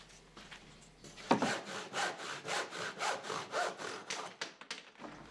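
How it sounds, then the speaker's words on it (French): A handsaw cutting through wooden slats, steady rhythmic back-and-forth strokes of about ten pulls, close and clear, starting after a brief quiet lead-in and ending with a couple of lighter strokes. "Sciez encore les 4 lattes qui viendront se placer par-dessus le montant conducteur."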